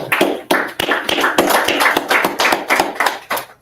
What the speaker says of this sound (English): We can go ahead and clap it up.